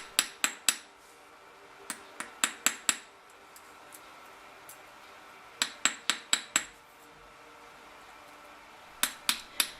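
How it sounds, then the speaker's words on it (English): A cross peen hammer taps a wire rivet end on jewellery, sharp metallic strikes in quick clusters of three to five with short pauses between, light and close, no voices. "For the cross peen hammer, instead of hammering around the edge, you're hammering across the centre of the wire end and turning it as you go."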